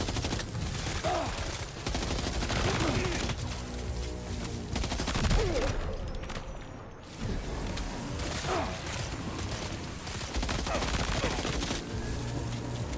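Rifle fire in the video game Death Stranding 2 comes as rapid bursts and single shots mixed with mechanical clicks and creaks, with a brief drop-out midway and a voice talking at times.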